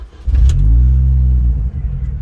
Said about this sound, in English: Let's start it up and have a listen to that engine.